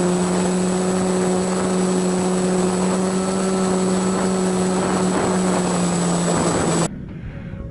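E-Flite Apprentice 15e electric RC airplane with its propeller, heard as a steady, loud, high droning whine with a constant tone that carries on throughout, then cuts off abruptly near the end.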